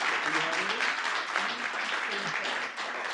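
A civic tech townhall audience applauds in a dense, continuous wash of clapping while a voice talks over it.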